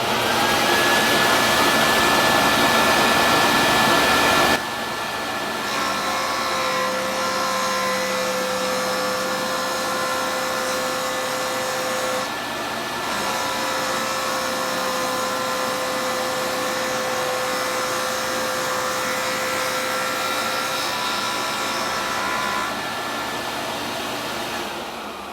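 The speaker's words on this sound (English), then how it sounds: "I'm going to just turn this on, and I'm going to turn on my vacuum as well" A JoolTool grinding ceramic with a 120 grit disc runs with a steady high whine alongside a vacuum's constant roar, changing pitch briefly as the tool is stopped and restarted, with no talking.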